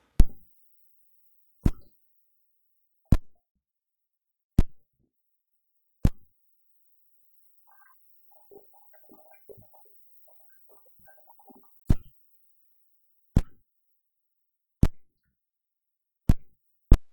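Knifonium synthesizer with its LFO synced to tempo at half rate and set to negative polarity, heard as a string of sharp percussive plucks at a steady pulse, broken by a short, softer burbling passage in the middle before the hits return.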